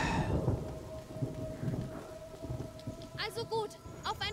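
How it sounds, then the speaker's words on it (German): Thunderstorm with steady heavy rain pouring across the ground, low thunder rumbles underneath, in the video game A Plague Tale: Innocence, with a few high chirping squeaks breaking through near the end. "Keine Sorge, der Sturm übertönt unsere Stimmen."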